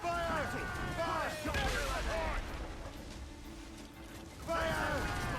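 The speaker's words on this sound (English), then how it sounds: "They're firing a volley!" Broadside cannon volley from sailing warships in Assassin's Creed Rogue, a rumbling burst of booms with creaking timber and crew shouts mixed in, fading mid-clip before a second loud wave of fire returns near the end.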